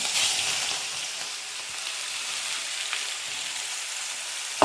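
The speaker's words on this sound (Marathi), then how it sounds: "आता आपण त्याच्यामध्ये हे चटणी टाकून घेऊ" Chutney tipped into a pan of hot oil tempered with mustard seeds and curry leaves, giving a steady, close, bright sizzle and frying crackle that holds evenly throughout with no talk.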